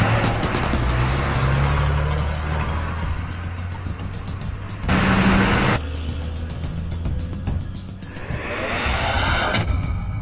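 A vehicle drives in a movie chase scene, its engine rumbling steadily and loudly, with a brief louder surge midway and shifting road noise throughout.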